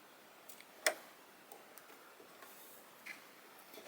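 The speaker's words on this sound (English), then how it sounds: "next I'm going to cut these threads that are through the needle" Scissors snip the threads running through the needle of a Brother 734DS overlocker serger, a single soft, crisp click in an otherwise quiet room.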